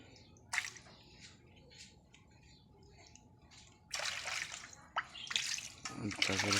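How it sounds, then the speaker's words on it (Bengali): Cut pangas fish pieces are washed in water, with intermittent splashes, drips and sloshing bursts that grow busier toward the end, while a voice talks nearby. "মাছ কাটা শেষ, এই যে এখন ধুবে নিছে"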